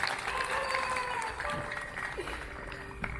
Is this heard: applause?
yes